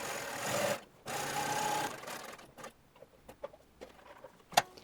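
A sewing machine stitches a dress collar for a shirtwaister dress, running in two loud bursts of steady whirring, then quieter scattered clicks and taps of handling and a sharp tick near the end.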